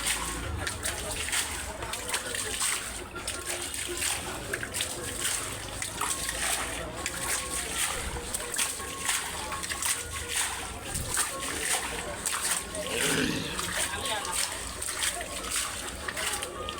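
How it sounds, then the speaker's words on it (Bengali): Floodwater is bailed out of a flooded shop in Dhaka, with steady sloshing and splashing water throughout while people talk nearby. "দোকানে পানি উঠছে, পানি সেচতেছি।"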